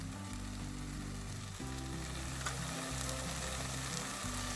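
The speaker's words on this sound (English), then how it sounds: "Saute the onions till it becomes translucent. Let's add 2 tomatoes sliced." Sliced onions and tomatoes sauté in a hot pan for an Indian rice dish, a continuous loud sizzle with occasional stirring scrapes and shifting crackle, close and with no talking.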